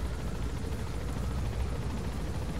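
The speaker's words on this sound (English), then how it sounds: "the helicopter's kind of loud" Helicopter in the video game Metal Gear Solid 5, a loud, dense rotor roar with rapid rhythmic chopping that fills the whole stretch without pause, close and steady.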